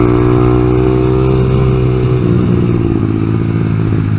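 A Honda Grom motorcycle engine runs loud and close, its steady drone wavering and sagging as the throttle is opened and the engine bogs.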